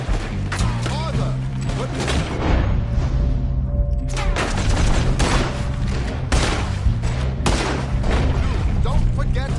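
Gunfire erupts in a Red Dead video game shootout, sharp repeated shots and booms going off throughout, mixed with a loud busy game soundtrack while people shout and talk over it.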